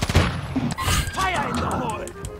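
Sniper rifle fire and bursts of gunfire in the Call of Duty video game ring out in quick succession, loud and close, while a player talks over the action.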